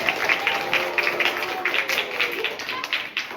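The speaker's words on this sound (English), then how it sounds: "You guys just clap your hands so they know you're here." Schoolchildren clap hands on a school visit at Eagle Bluff in Onalaska, Wisconsin, a scattered run of close, uneven claps over a low background hum.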